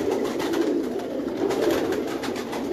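Pigeons from a Karachi fancier's loft coo in a steady, low murmuring drone that runs continuously, fairly close and moderately loud, with no talk over it.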